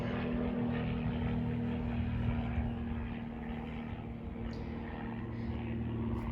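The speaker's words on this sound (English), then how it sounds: "that plane is still louder than the bees" A propeller plane drones steadily overhead at a distance, a continuous low engine hum over an outdoor permaculture food forest where bees buzz faintly.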